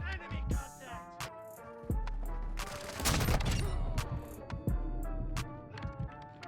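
Gunfire from a close-range weapon in the Warzone 2.0 shooter, a series of loud, sharp shots with short gaps between them and a heavier burst in the middle, mixed with clatter from the game.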